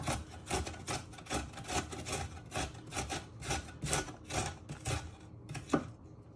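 Fresh ginger is grated up and down on a sharp grater in quick, even rasping strokes, close and fairly quiet. A brief knock comes near the end.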